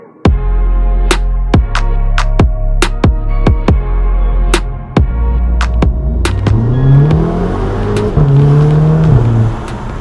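An Audi TT engine fitted with a performance intake revs hard in repeated sharp bursts, then settles into a rising, droning acceleration up close, loud and continuous.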